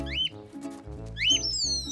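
Sharp rising whistle calls, a short one then a longer sustained one, imitating a referee's whistle over a low background hum.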